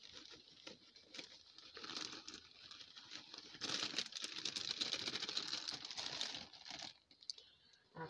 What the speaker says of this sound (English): I'm just going to sprinkle it all over. Sprinkle it evenly.